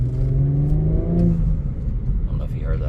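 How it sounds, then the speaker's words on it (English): A 2020 Audi S4 3.0T Premium Plus quattro accelerates with a strong, rising engine note that drops off as the throttle lifts, followed by a brief, soft turbo flutter; the sound is close and loud. "it definitely has that little turbo flutter at the end"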